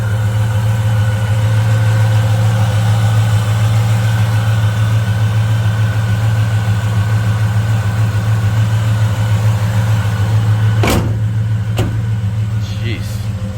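A 1948 Chevrolet convertible with a 5.7L engine runs steadily, a deep, even engine drone close by, with a couple of sharp knocks near the end.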